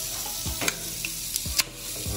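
A bottle of Perrier sparkling water is opened with a few sharp hisses of escaping gas, followed by steady fizzing, close and fairly loud, with no voices.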